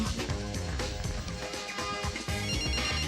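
An electronic telephone ring for an incoming call on a Polish TV quiz show trills in a rapid repeating pattern, loud and continuous across the short stretch.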